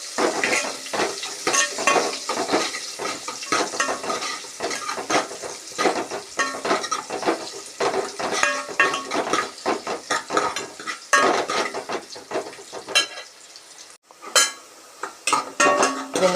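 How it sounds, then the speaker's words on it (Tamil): Onions sautéing in a pan for horse gram rasam, a steady sizzle broken by frequent scraping stirs and light clinks of a utensil against the pan, close and fairly quiet with no talk. "வெங்காயம் நல்லா வணங்கிட்டுருக்கு."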